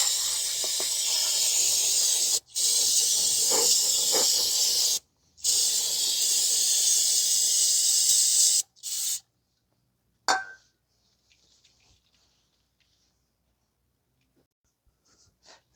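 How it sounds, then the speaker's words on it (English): Loud aerosol brake cleaner spray hisses in three long bursts with brief gaps, then a short final blast and quiet. "Spray some brake cleaner."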